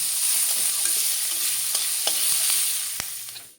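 Onion, garlic, ginger and green chili fry together in hot oil with whole spices for an Assamese sour curry, giving a steady, close sizzle with occasional sharp stirring clicks and no talking.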